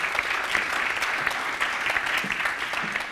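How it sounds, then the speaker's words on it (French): An audience applauds at a public gathering, with dense, sustained clapping at steady volume from start to finish. "Applaudissements, si vous voulez bien, pour saluer"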